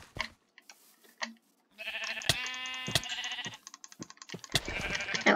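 Sheep bleat in Minecraft Sky Block, with several short, nasal baa calls over scattered clicks and game effects at a moderate level.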